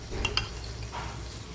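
A spoon stirs thin flour batter for boorelu in a bowl, with a couple of soft, quick scrapes up close and then a quiet swishing, no voices.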